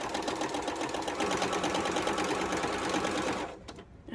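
A sewing machine stitches a quilt block, the presser foot guided along a drawn line, with a close, steady rapid whir that stops near the end.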